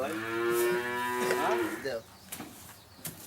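A Friesian heifer moos loudly and close for nearly two seconds, a long drawn-out low call that fades, followed by quieter shuffling sounds.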